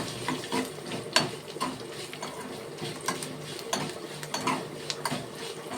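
Fenugreek seeds frying in hot oil for a tempering, a continuous crackling sizzle with scattered stirring scrapes and clicks against the pan, close and fairly loud, no talk.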